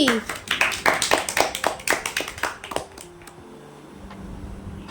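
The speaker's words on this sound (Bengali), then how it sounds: "হাততালি" A small gathering at a Rabindra Jayanti celebration claps in a brief, uneven round of sharp hand claps for about three seconds, then it fades into quiet room tone.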